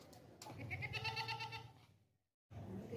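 A healthy, plump goat offered for the 2024 Qurbani sacrifice gives one drawn-out, wavering bleat close by, then falls silent briefly before soft background noise returns.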